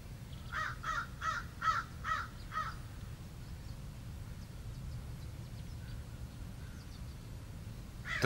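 Crows cawing, five loud harsh caws in a quick even series early on, then a quieter outdoor background with faint distant calls and a final short caw at the end.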